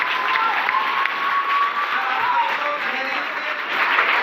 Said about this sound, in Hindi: एक बार मैं हर एक डिस्ट्रीब्यूटर को बोलूंगा एक बार जोरदार ताली चाहता हूँ।